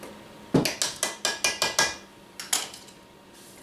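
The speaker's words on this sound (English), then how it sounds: "just take one of your measuring spoons and just go ahead and give it a slight mix" A measuring spoon clinks against a bowl while pumpkin bread ingredients are stirred: about nine quick, close, evenly spaced taps, a brief pause, then two or three more, with no talk.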